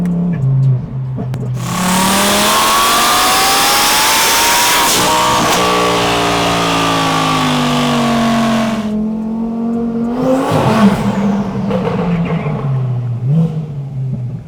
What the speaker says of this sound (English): I could hear that turbo spool sound all day long.